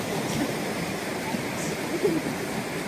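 Water of Alameda Creek in California flows steadily, a broad continuous rush of moderate loudness with no breaks and no talk.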